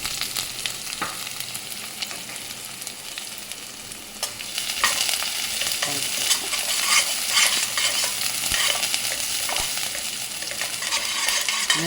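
Onion, ginger and green chilli hiss and sizzle steadily in hot oil with cumin seeds while being stirred in a pan, the frying growing louder after a few seconds, with occasional utensil scrapes and clinks.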